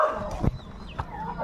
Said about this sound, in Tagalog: Yung mga aso na yan